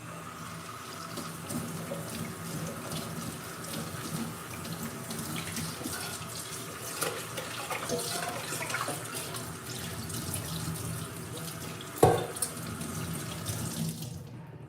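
Tap water runs steadily into a sink while homemade soap is washed off, a continuous close splashing flow with a small clunk near the end before it stops.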